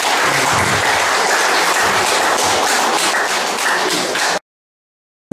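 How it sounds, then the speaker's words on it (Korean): Continuous, dense applause from a crowd at a photo exhibition opening ceremony in a gallery, loud and sustained for about four seconds before cutting off abruptly into silence. "큰 박수 좀 부탁드리겠습니다."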